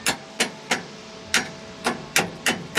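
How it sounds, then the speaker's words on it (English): Hammer blows driving a pin out of a combine harvester, seven sharp metallic strikes at an uneven pace, close and loud, with no talk over them. "Get some sweet footage of me hammering this pin out."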